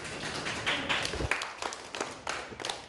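Schoolchildren applaud classmates after a magic act performed behind a small table in front of a black curtain, a lively burst of many hands clapping at close range, with uneven sharp claps and a few thumps.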